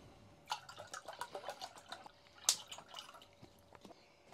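Water from a 32-ounce bottle is poured into a pot set on a FIREMAPLE Saturn X camping gas stove, a faint close trickle and splashing with a few drips, heard alone.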